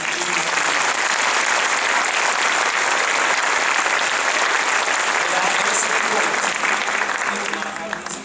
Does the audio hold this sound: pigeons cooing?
no